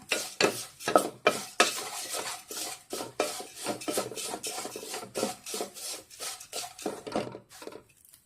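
Flattened rice (aval) being stirred and roasted in a pan, rhythmic dry raspy scrapes of a spoon against the pan repeating about twice a second, close and fairly quiet, with no talking.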